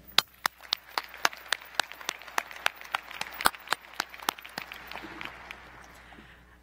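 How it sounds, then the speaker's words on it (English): Sparse, distinct claps ring out at a law school spring commencement, sounding like a few people clapping at a steady pace for the graduates, fairly faint and somewhat distant, with no talking. "let's give a round of applause to our amazing graduates"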